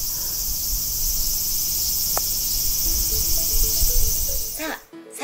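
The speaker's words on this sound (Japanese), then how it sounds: "あ、桜の木ね、夏はこんな風にセミがいっぱいです。" Summer cicadas in cherry trees in Japan give a dense, continuous high buzzing drone that stays loud and steady, with a brief voice and a sharp cutoff right at the end.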